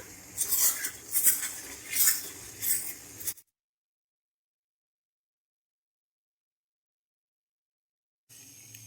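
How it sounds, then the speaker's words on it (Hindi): A metal spoon stirs lemon pepper chicken in a pan, with several rhythmic scraping and clinking strokes close by, then the sound cuts to silence before a faint return at the end. "बराबर हम चम्मच से इसको मिक्स करते रहेंगे ताकि चिकन जले ना"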